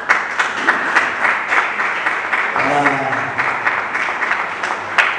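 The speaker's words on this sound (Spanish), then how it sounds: "Así es que fuertes los aplausos" An award-ceremony audience at a cultural audiovisual contest gives a few seconds of dense, steady clapping, with a brief spoken interjection partway through.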